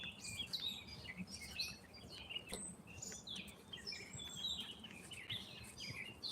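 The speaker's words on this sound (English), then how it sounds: "I do got crazy birds." Birds chirp beside a trail next to an overpass in Wisconsin, with many quick, faint tweets overlapping continuously above a low background hum, no voices present.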